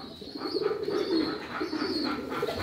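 Indian fantail pigeons at a pigeon farm coo in a steady, continuous murmur of soft, rolling calls, close and moderately loud, with no talk over them.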